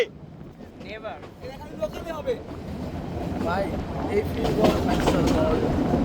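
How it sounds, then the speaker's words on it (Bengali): A train rumbles along the rails on the journey from Dhaka to Sitakunda, a steady moderate roar that builds gradually, with scattered voices and speech over it. "ট্রেনের এই অসাধারণ জার্নিটা উপভোগ করতে করতে"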